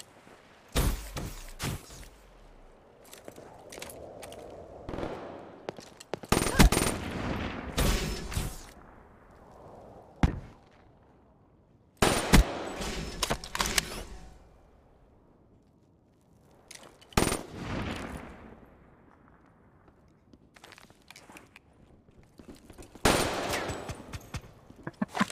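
Repeated bursts of automatic gunfire from Black Ops 3 on PS4, loud and close, separated by short quieter gaps with no talking.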